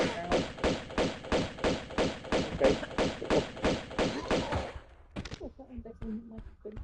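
Repeated heavy thuds of a video game character banging its head, about a dozen evenly spaced blows in quick rhythm, loud and close, followed by a short pause and scattered softer knocks and clatter.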